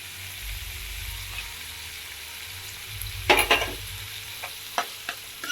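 Tomatoes tipped into a pan of frying onions while cooking a garlicky eggplant bharta: a low steady sizzle, then a burst of scraping stirs and clacks from a spoon against the pan, with a few scattered knocks afterward.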